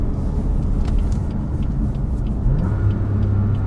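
A BMW F80 M3 on Bilstein B16 coilovers pulls hard in second gear, its engine a steady loud rumbling drone throughout, with a rising tone near the end and no voices.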